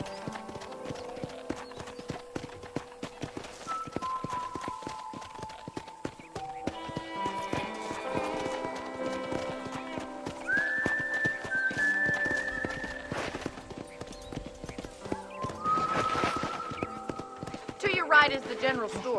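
Rhythmic horse hooves clip-clop steadily over game music and voices in Red Dead Redemption, with a short whinny near the end.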